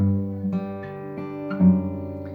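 A brief acoustic guitar phrase of several plucked notes in a steady rhythm, ringing clearly with no voices.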